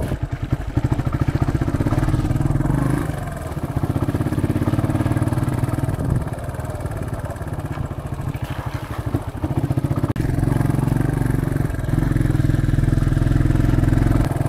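A motorcycle engine rumbles loudly throughout a ride, its low chugging note rising and easing with throttle changes and brief dips around shifts.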